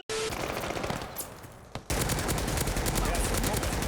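Rapid automatic fire from a Lienna 57 rifle in the video game Call of Duty: Vanguard, a dense, loud stream of shots with a short break partway through before it resumes, with a voice speaking at times.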